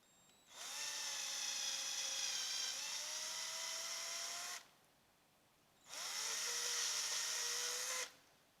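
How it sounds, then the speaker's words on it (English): A power drill whines in two bursts, the first about four seconds long and the second shorter, its pitch dipping as it bites, separated by a quiet pause. "is drill the hole out a bit bigger that the screw goes into"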